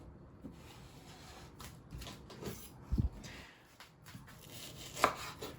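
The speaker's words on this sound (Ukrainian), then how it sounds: "Далі філе нам треба порізати шматочками" Knife cutting a fillet into pieces on a board, a few scattered soft chops and taps at irregular intervals, fairly quiet with light background noise and no speech.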